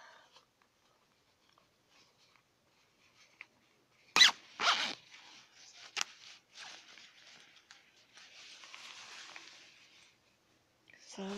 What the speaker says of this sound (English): Let's see how the zipper works.